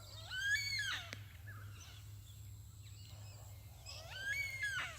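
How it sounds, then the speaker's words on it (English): An Australian black cockatoo gives two long, wailing, harmonic calls a few seconds apart. The calls sound moderately distant over a low steady hum. "It's a black cockatoo."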